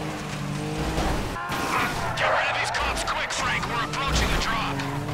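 Gunfire in Grand Theft Auto 5 mixed with car engine noise and crashes, dense and continuous, with sharp cracks punching through the din while people talk excitedly over it.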